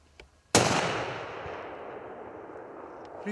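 A single hunting rifle shot fired at a deer during a driven hunt in Hungary, a sharp loud crack followed by a long rolling echo decaying across open country, with no talk.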